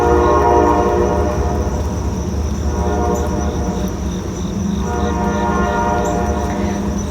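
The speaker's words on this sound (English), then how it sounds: "wait for the whistle to stop blowing" A long, steady train horn holds its tone over a rumbling rail background, with faint insect chirps; continuous and fairly loud, no talking.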